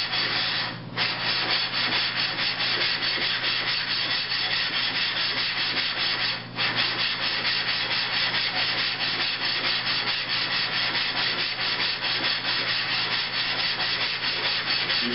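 Abrasive grit grinding a telescope mirror, a steady loud gritty rubbing and scraping that runs continuously with two brief dips in intensity, no voices.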